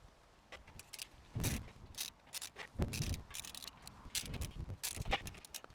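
Close ratcheting and clicking from a screwdriver fastening screws on a LiteBeam 5AC antenna, several short bursts of mechanical turning with small gaps between them.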